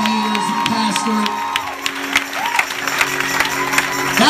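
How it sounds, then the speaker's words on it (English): Applause and cheering from a church congregation at a bishop's 20-year pastoral anniversary celebration, steady clapping with scattered whoops throughout, a voice talking over it. "While you're standing, while you're clapping"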